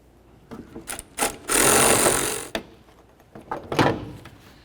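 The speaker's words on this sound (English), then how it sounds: "Once they're both started, we'll snug them up." Bolts on a coolant reservoir for a 1988-2000 Chevy C/K1500 are snugged up with a hand tool, heard as a few sharp close clicks and a longer buzzing ratchet run in the middle, with no talk.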